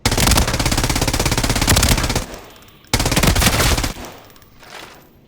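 Sustained automatic rifle fire in the game Arena Breakout Infinite using a zero-recoil macro: a loud, rapid, steady stream of shots for about two seconds, a short pause, then another burst that tapers off.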